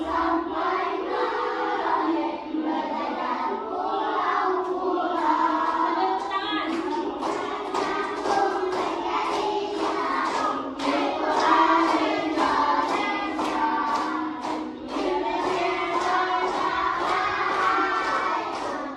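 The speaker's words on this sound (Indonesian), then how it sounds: "Tepuk tangan." Classroom group of pupils clapping along in a rhythmic teacher-led clap pattern while singing a patriotic song, dense steady claps under continuous voices.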